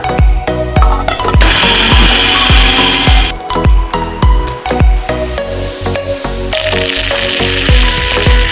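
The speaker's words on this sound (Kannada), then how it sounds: "ಇದನ್ನ ಗ್ರೈಂಡ್ ಮಾಡ್ಕೊಂಡ್ಬಿಡೋಣ ಈಗ" A kitchen mixer grinder works a spicy, sour mixture, making close, loud, repeated clattering pulses over a motor whir for the whole stretch.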